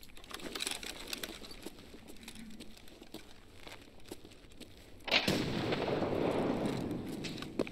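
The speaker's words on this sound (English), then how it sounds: "Watch this nade" A grenade blows up in an online shooter video game, a sudden loud burst near the five-second mark followed by a sustained rumbling roar, after a stretch of scattered clicks and game noise.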